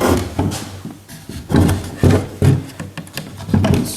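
A folding wooden shop stool is collapsed flat, with a close series of loud wooden knocks, scrapes and rubbing clunks as the legs slide through their notches.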